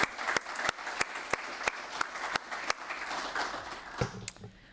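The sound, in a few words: audience applause for the DG CONNECT team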